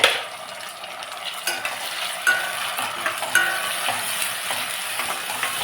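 Tomatoes fry with onions in a pan for a fish curry, giving a steady broad sizzle with occasional scrapes and clinks of a spoon stirring against the metal, close and continuous throughout.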